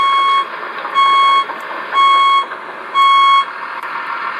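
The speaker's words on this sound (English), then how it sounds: "Hear the beeper." An electronic reversing beeper from the sound module of a 1/14 RC4WD DXR2 hydraulic bulldozer sounds four times at an even, slow rhythm, a clear high tone over a constant mechanical hum.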